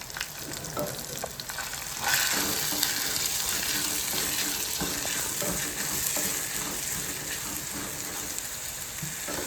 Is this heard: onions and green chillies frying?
yes